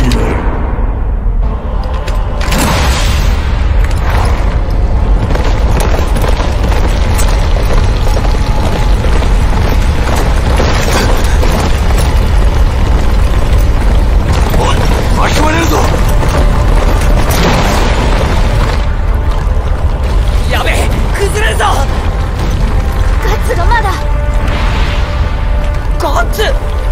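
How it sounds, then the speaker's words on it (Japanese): A loud explosion from Berserk and the Band of the Hawk, Chapter 41, Darkness Qliphoth: deep booming rumbles roll on continuously through a heavy, dense soundscape, with character voices speaking over it at times. "爆発"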